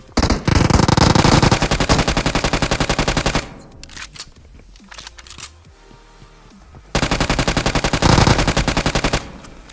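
Rapid Uzi gunfire in PUBG Mobile, loud dense bursts for about three and a half seconds, a quieter stretch, then another long burst of fast shots near the end.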